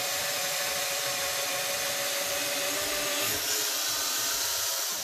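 A drill bores starter holes in wood for a leather sewing machine table, with a loud, steady motor whir and a rough grinding bite running unbroken through the whole stretch and no voices.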